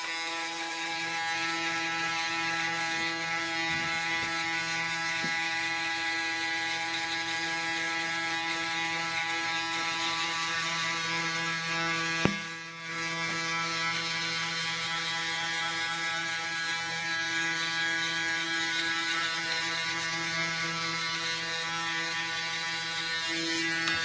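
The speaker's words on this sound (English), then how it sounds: "we're gonna grab our Braun Series 9 shaver" A Braun Series 9 electric shaver runs steadily and close by, a constant motor buzz rich in harmonics that holds for the whole stretch with only a brief dip midway, no talk over it.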